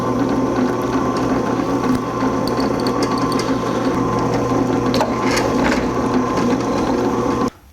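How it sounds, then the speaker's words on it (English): A power drill whirs steadily at high speed drilling 1/8 inch pilot holes into a 1984 Jeep CJ7's boxed steel frame, with a few sharp scraping bites into metal near the end before it abruptly stops. "we'll drill some 1/8 inch pilot holes"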